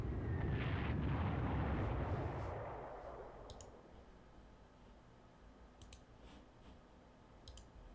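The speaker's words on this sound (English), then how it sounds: "So we'll bomb this heavy cruiser instead." A heavy cruiser is bombed in the strategy game Panzer Corps, with a loud rumbling blast that swells and then decays into a low hum. A few sharp interface clicks follow.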